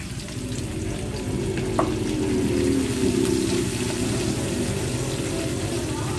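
Onions frying in a pan for ginataan santol give a steady, close sizzle that swells slightly after a moment and carries on evenly, with no one speaking.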